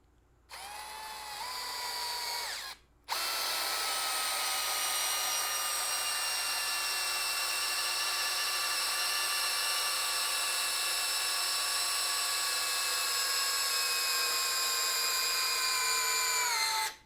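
A Greenworks 24V brushless drill driver running on speed 1: a short high-pitched whirring burst, a brief pause, then a long steady whine held close and loud for about fourteen seconds before cutting off.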